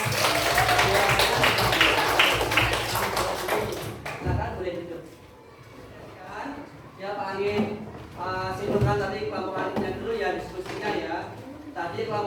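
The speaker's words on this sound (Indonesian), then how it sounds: "Beri tepuk tangan untuk kelompok 3." Classroom students applaud a group after its food-chain presentation: about four seconds of dense, close clapping, which then stops and gives way to a voice talking.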